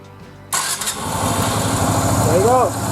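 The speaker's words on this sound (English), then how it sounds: "Now let's just go ahead and turn on the engine again." A Yamaha Virago motorcycle engine, just reassembled after carburetor work, cranks and catches after a short pause, then settles into a steady, close, loud idle with a brief rev.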